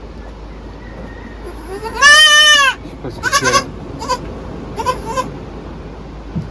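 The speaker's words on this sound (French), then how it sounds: "il faudrait qu'elle suive les autres chèvres" A goat bleats loudly once, followed by a few shorter, fainter bleats in a noisy outdoor setting on Tahuata, with a brief spoken word.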